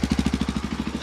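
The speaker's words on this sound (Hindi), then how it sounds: "सो ये कुछ आइडल साउंड है इस" A 2026 Yezdi Adventure motorcycle idling close by, its single steady engine pulsing in an even, rapid thump with a low mechanical hum and no other sounds.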